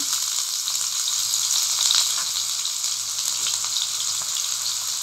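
Chopped onion added to oil with fried dry red chilies for masoor dal, a steady bright sizzle at moderate level with light stirring, no voices.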